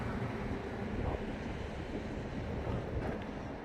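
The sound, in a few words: cold wind blowing at a mountain overlook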